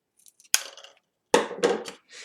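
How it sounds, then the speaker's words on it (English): Scissors cut a plastic drinking straw in half: three or four crisp, close snips and crunches with short pauses between them, then a soft rustle. "take your 3 straws and cut one of them in half"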